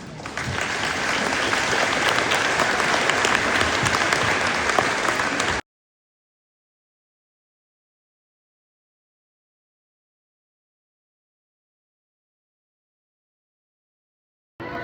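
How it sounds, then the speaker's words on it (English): An audience gives a loud, dense round of applause for several seconds, then it cuts off abruptly into silence before a brief burst returns at the very end. "we're going to give them another round of applause."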